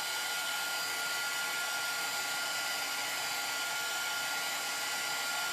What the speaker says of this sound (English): I'm using a heat gun now because it's quieter than the blow dryer was